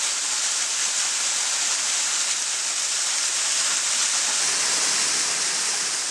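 Sangsa waterfall, water dropping about 20 metres over rocks, makes a continuous, even hiss and rush that is steady and close throughout, with no other sounds.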